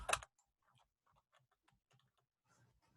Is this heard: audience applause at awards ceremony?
no